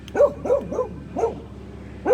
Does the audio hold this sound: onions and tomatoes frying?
no